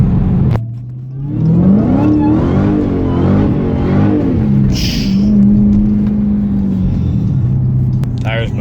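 Hard acceleration in a 500 hp Pontiac G8, its engine note climbing and falling through the gears with tire spin, loud and close from inside the cabin, with people talking over it.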